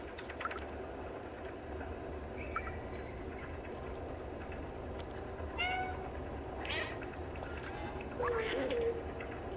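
The cat in Stray gives a few distinct meows spaced several seconds apart over a steady, humming background of game ambience.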